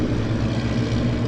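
A four-engined Lancaster bomber taxis out at Southend Airport during a Battle of Britain Memorial Flight display, its piston engines giving a loud, steady, low droning rumble.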